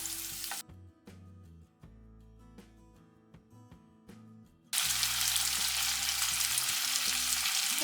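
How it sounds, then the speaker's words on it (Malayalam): Fish fillets frying in a hot pan for a special fish curry, with soft sizzling and a few handling clatters that swell into a loud, steady broadband sizzle once the pieces are flipped. "ഇത് 2 വശവും നമുക്ക് ഫ്രൈ ചെയ്തെടുക്കാം."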